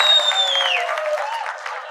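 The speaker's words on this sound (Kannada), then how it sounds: "ಅಂಡ್ ಜೋರ್ ಚಪ್ಪಾಳೆ ಬರ್ಬೇಕು ನಮ್ಮ ರಘುಗೋಸ್ಕರ." A film event audience bursts into loud applause and cheering for a dialogue writer named Raghu, a dense wash of clapping with a whistle-like tone sliding downward over it.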